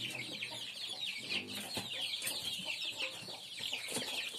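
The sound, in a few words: chickens and chicks clucking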